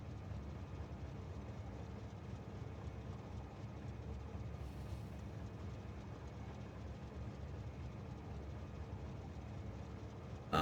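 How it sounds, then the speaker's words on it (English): An acetone train moving in Factorio, a faint continuous low rumble of engine and rolling wagons that stays even throughout with no talk over it. "Here's the acetone train."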